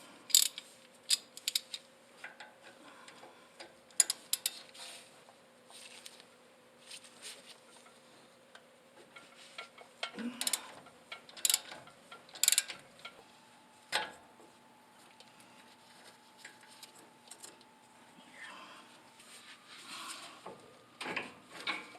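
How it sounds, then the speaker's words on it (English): A 12mm bolt is loosened from a bracket on a third-generation Toyota Tacoma, with a ratchet clicking in rapid bursts and some metallic clinks, close and fairly quiet, and no talk. "that's going to be a 12mm bolt that we need to remove"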